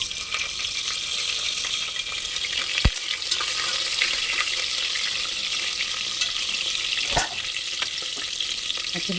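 Green chillies sizzle and spit in hot oil in a pan while cooking for paneer biryani, a steady close hiss with a couple of sharp pops and stirring noises, no voices.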